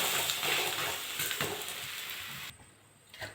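Pearl millet roti frying in a little oil on a pan gives a steady close sizzle for most of the moment, then cuts off sharply, leaving a quiet tail with one small clatter.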